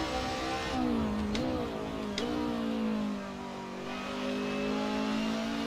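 Touring car engine at Bathurst in Assetto Corsa revving hard under racing load, with a steady mid-pitched drone broken by a couple of quick gear-shift dips, close and loud with no talk.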